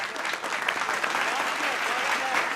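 An audience at a live Republic Day poetry recital breaks into dense, sustained applause, many hands clapping loudly and evenly throughout.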